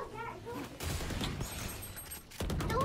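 Gunfire in the video game Valorant, rapid bursts of shots with sharp transients and a clattering rattle, loud and close, broken by brief gaps.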